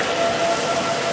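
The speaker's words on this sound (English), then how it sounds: "they're still blasting for the south end" Civil defense warning sirens sound steadily across the south end of town during an emergency, a continuous wailing tone sitting over a broad hiss without pause.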